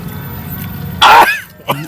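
A single loud, harsh cough close to the microphone, followed by a brief throaty voice sound.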